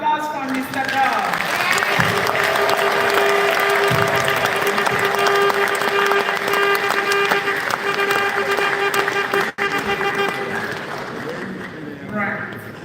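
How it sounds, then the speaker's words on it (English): Crowd noise at a Biafran rally, with applause and cheering blended into continuous dense chatter and a sustained tonal hum, loud throughout without a clear break. "Biafrans, another round of applause for Mr. God."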